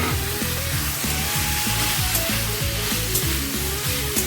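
Boiled chickpeas hit spiced potatoes frying in oil, giving off a steady, bright sizzle that stays even throughout, with a melodic music track running underneath.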